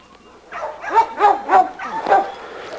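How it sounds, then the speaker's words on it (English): A small dog in a breeding yard gives several short barks and yips in a quick cluster at close range, with no talking over them. "This is our little champion Rocco dog"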